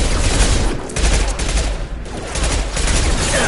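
Dense, loud rapid gunfire from the video game Mass Effect 2, continuous bursts filling the whole stretch with only brief dips between volleys.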